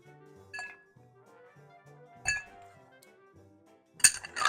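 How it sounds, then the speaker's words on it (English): Ice cubes clink into a glass cocktail mixing glass while a Vieux Carré is prepared, a few sparse bright clinks spaced apart, then a louder cluster of rattling ice near the end, close up and without talk. "We grab our ice."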